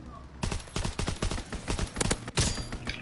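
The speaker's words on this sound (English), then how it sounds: "Enemy strafing run inbound." Dense bursts of gunfire from an enemy aircraft strafing run in a WW2 video game, with loud rapid volleys rattling continuously for about three seconds after a short quiet start.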